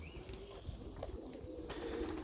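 Mixed pigeons, including crested and marble birds, feed on grain and mineral powder in a loft, with soft cooing and steady low bird murmurs throughout, near and continuous.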